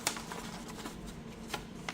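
A large paper information leaflet for Sennheiser Momentum Sport earbuds is handled close up, soft rustling with a few sharp crinkles and flicks over about two seconds.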